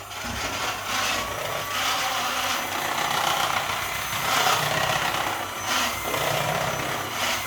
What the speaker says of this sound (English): So now we're going to whisk that again.